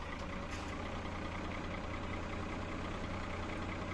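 Tractor engine from the Farming Simulator 17 video game, straining while it runs a feeder. It gives a steady, loud, low mechanical drone that holds unbroken for the whole stretch, with no talk over it.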